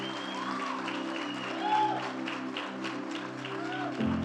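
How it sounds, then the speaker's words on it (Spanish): A church congregation gives a strong round of applause to the Lord during a sermon, steady crowd clapping blended with sustained musical tones and voices. "Denle un fuerte aplauso al Señor."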